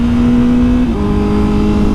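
A Honda CBR1000RR-R Fireblade SP engine revs hard at around 7,000 RPM, a loud, continuous high-pitched motorcycle howl whose tone steps up partway through, close and unbroken with no talk.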